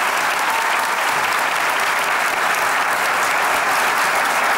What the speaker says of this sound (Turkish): Kocaman alkışlar.